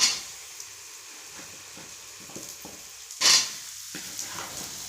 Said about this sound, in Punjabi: ਆਪਾਂ ਭਿੰਡੀਆਂ ਦਿੱਤੀਆਂ ਪਾ ਤੇਲ ਆਪਣਾ ਹੋ ਗਿਆ ਸੀ ਗਰਮ